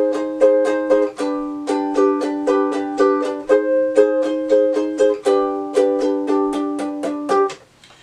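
Ukulele strumming the chords of a song from Encanto, crisp rhythmic down-up strokes in a steady pattern with brief pauses, close and clear, alone until a final strum rings out.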